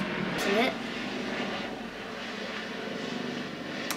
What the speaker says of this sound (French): j'ai des hélicoptères là qui arrêtent pas de tourner depuis ce matin